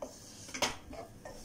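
A spoon scrapes and clinks against a pan as chicken fried rice is mixed, a few quick metallic knocks over a steady background, close and moderately quiet.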